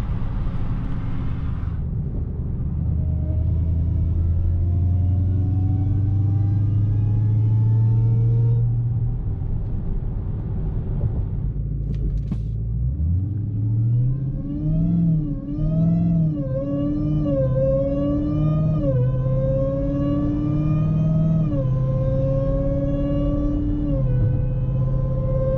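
An 1100-horsepower Dodge Charger Redeye Widebody on drag radials idles with a heavy, deep rumble. It then swells into a series of throaty revs that rise and fall, loud and close.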